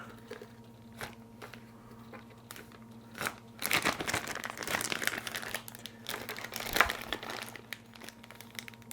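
A plastic Ziploc bag being filled with spoonfuls of tomato paste, soft crinkling that swells into a few seconds of steady rustling then fades, with faint handling taps before and after.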